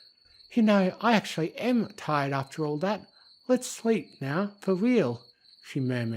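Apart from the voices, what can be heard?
crickets chirping outside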